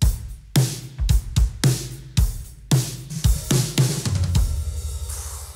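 A steady drum beat with punchy kick and snare hits, then a busier run of rapid hits rolling into a fill with crashing cymbal wash at the end.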